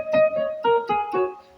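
Hyper Keyboard 10 played with auto set adding harmonics, giving a fuller, layered tone over a quick phrase of about five notes, close and clean with no voices.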